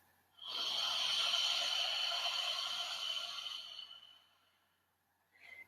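A single long, hissing breath drawn through a narrowed throat, steady for about three seconds, then fading, followed by a brief soft breath at the end.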